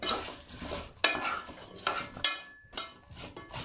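Crumble mixture for a sugar- and butter-free apple, raspberry and mango crumble being stirred in a dish, with repeated scraping, clattering strokes in uneven bursts, close and fairly loud, with no talking.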